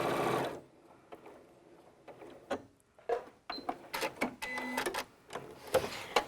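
A Janome computerized sewing machine stitches a 5/8 inch seam in short bursts of quick, mechanical whirring and clicking, starting and stopping irregularly, close and fairly quiet, with no talk.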